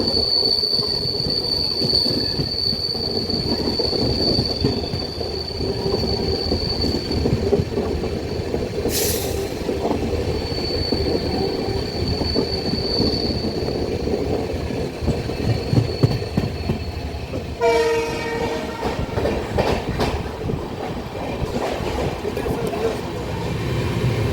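A passenger train rumbles steadily along the rails with rattling wheels and a brief metallic squeal, continuous and close, during heavy rain.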